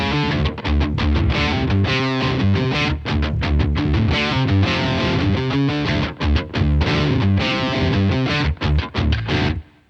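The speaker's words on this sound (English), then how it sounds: "I'm actually going to put the 1 octave setting up to about 3 o'clock, and that's going to sound like this." Electric guitar run through a Boss OC2 octave pedal with the one-octave-down setting turned up to about three o'clock, producing a thick, loud, continuous riff with a deep doubled low end and no talk.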